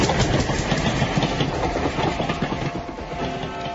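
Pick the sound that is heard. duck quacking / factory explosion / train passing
train passing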